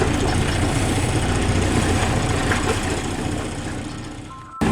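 Sailboat auxiliary engine, the Iron Jenny, running steadily under sail, a loud constant low rumble with wind and water noise that drops away abruptly near the end.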